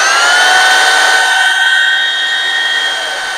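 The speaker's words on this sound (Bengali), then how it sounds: "তাইলে আমি এখন মেশিনটা স্টার্ট করতেছি" A DC motor driving a DC alternator runs at speed with a loud, steady electric whine and several sustained tones, easing slightly lower toward the end, with no talking.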